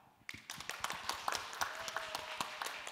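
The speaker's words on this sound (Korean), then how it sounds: "여러분께서 또 환호와 같은 박수로 환영해 주시면 감사하겠습니다" Church congregation at a Monday intercessory prayer meeting bursts into applause as a pastor is introduced, a dense run of close hand claps starting abruptly and continuing steadily, fairly quiet overall.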